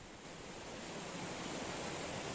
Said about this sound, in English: A natural fountain bubbles up from the depths,